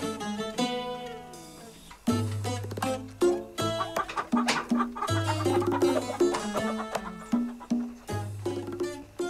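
Chickens cluck in a busy farmyard, with repeated sharp clucks and calls close by and a rooster-like cry, while other animal sounds and hoof-like clopping mix in.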